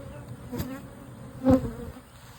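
Honeybees hum steadily at close range at an open hive, with a couple of brief louder buzzes as individual bees fly past.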